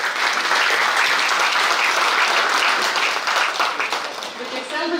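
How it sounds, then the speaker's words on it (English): A convention audience of mechanical engineers breaks into sustained, dense applause, loud and even for several seconds before tapering slightly, with a faint voice underneath near the end. "it requires a large round of applause by the audience"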